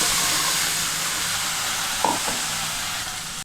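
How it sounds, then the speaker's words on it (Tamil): Ground betel leaf paste dropped into hot oil already crackling with mustard seeds, dried red chilli and curry leaves, giving a steady loud sizzle with a brief wet plop and stir partway through, no voices. "இப்போ நம்ம அரைச்சி வச்ச அந்த விழுதை போட்டுக்கலாம்"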